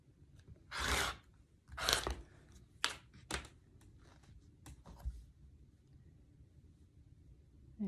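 Rotary cutter or scissors slicing quilting fabric into 4.5-inch strips, a few crisp crunchy cuts with quieter scraping between them, close and fairly faint, with no talking.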